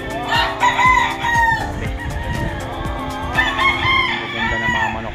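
Several game fowl roosters crow at a farm in Tanay, Rizal, loud overlapping cock-a-doodle-doos with clucking in between. A man's brief exclamation is heard among the birds.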